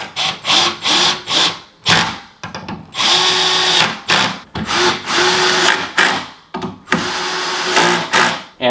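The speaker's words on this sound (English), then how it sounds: "with the supplied hardware, we can go ahead and bolt this one into place" A power drill drives bolts from the supplied hardware into a bed frame headboard, loud close-up bursts of whining motor with short pauses between runs, the pitch steady during each pull.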